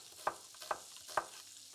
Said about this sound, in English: And they'll also go into the pan just to get a little bit of colour.